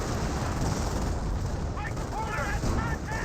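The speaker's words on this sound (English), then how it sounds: "Panzer firing away." A Panzer tank fires in a Company of Heroes battle amid dense, continuous rumbling gunfire and explosions, with whistling shell sounds near the end.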